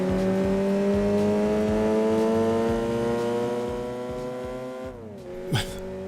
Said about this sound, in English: Just revving it out.